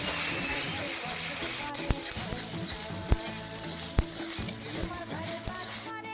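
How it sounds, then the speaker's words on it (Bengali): Spice paste with tomato, coriander powder and salt frying and being stirred in a karai at an outdoor field picnic, with a steady sizzle and occasional sharp scrapes and knocks of the spoon against the pan. "মশলাটা কষানো হয়ে গেছে"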